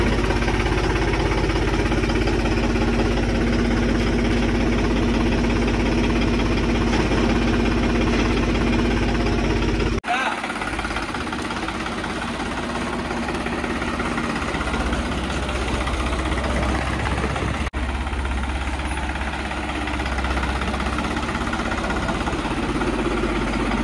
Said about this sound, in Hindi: चलो भाई, न्यू हॉलैंड ट्रैक्टर को लेके चलते हैं हम।